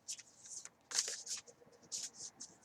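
Large oracle cards shuffled by hand in soft, quiet papery bursts of riffling and sliding, several separate flurries close up in a quiet room.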